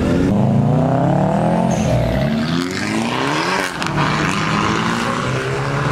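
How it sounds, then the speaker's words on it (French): Subaru cars rolling into a car meet, engines humming and rising in pitch as they pass close by, loud and steady throughout. "Il y a deux Subaru là qui viennent d'arriver, vraiment pas mal"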